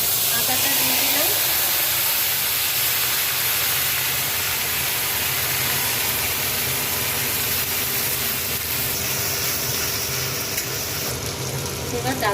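Ginger hits a hot pan while cooking sukto dal and sizzles with a loud, steady hiss that fills the whole stretch without letting up.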